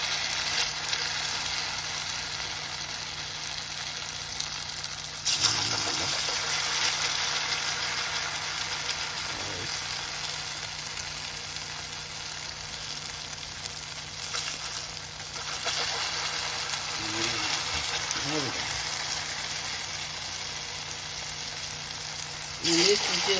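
Hot water cornbread patties frying in grease, a continuous dense sizzle running the full length, with occasional soft bumps and clatters as patties go in, no voices.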